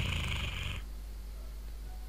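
A close, steady purring with a low rumbling texture from a cat in Minecraft, fairly quiet, continuing alone without any talking.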